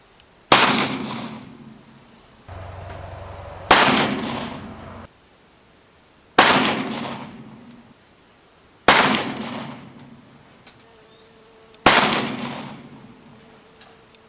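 Six loud shots from an Uberti Walker revolver fitted with a black powder conversion cylinder, fired one at a time a few seconds apart outdoors, each sharp crack followed by a long ringing decay, with a low hum between some shots.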